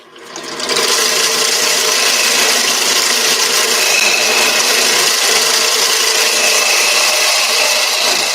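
Skew chisel cutting a spinning wood turning on a lathe, a steady, loud, continuous hiss and whir that starts abruptly and holds for several seconds, close up with no talking.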